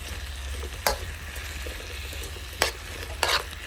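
Vegetables and pineapple frying in hot oil in a pan give a soft steady sizzle, broken by three short sharp scraping stirs of a utensil, with no talking.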